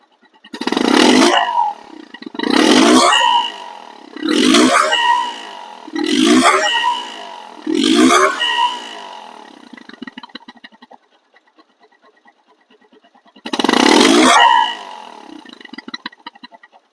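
A second-hand Bajaj Discover 135cc motorcycle engine revs in five short bursts with brief pauses, then falls quiet and revs once more after a gap.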